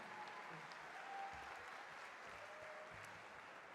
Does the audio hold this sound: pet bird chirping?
no